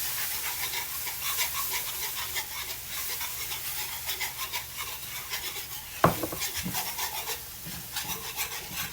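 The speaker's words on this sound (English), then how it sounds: "gradually add in our milk, and you're going to whisk it as you add it, making sure there's no clumps" Milk whisked into a roux in a pan for bacon gravy, a steady scraping, rubbing rhythm of whisk against metal, with a sharp clatter near the middle and continued close stirring afterward.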